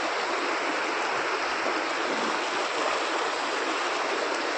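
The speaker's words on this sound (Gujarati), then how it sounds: "અને એકદમ મસ્તની નદી હાલી રહી છે" A lively river flows strongly after rain near a temple in a Gujarati village, a steady, close, full rushing of water that fills the whole stretch with no voices.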